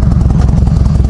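A motorcycle engine fitted with a new starter runs loud and close, giving a quick, steady pulsing throb with a slight mechanical clatter throughout the brief burst.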